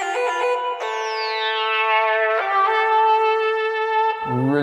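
A Synthmaster software synthesizer plays sustained, bright, harmonically rich notes that step between pitches, with a sliding sweep near the start and a low pitch drop at the end, alone without talk.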